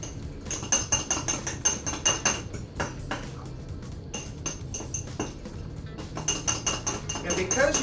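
A spoon clinks and taps against a dish as keto coconut bread batter is mixed in short rhythmic bursts with pauses between them. A person talks over the mixing.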